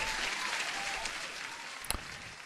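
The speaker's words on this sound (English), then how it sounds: "Huge applause for the man of the hour." An applause sound effect plays as a steady, dense patter of clapping, moderately loud and uninterrupted for a couple of seconds, with a sharp click near the end.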